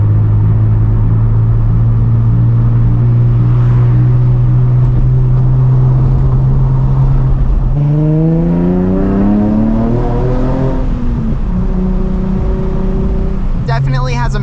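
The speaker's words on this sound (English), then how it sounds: "Definitely has a misfire." A 2007 Nissan 350Z HR's engine runs loudly up close with a misfire, a steady low drone that climbs and falls as the revs rise, with someone speaking briefly over it.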